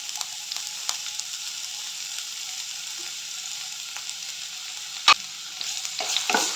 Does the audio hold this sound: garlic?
yes